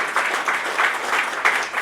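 An audience applauds steadily for Phil Weaver, a longtime Whiteaker neighborhood denizen and activist at a community storytelling event, with close, dense clapping that continues without pause.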